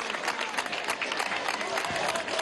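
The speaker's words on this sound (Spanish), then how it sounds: "Vamos a darle un aplauso a los artistas de la patria." A crowd at a rally at Miraflores Palace in Venezuela claps steadily and loudly, a dense, continuous wash of applause throughout.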